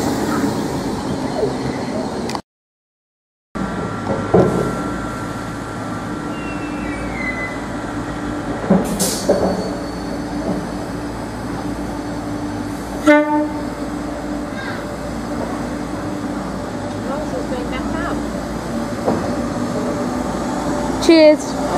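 Train passing through Havant station, a long steady rumble of rolling wheels with brief squeals and metallic clanks, loud and close, with people talking faintly beneath it.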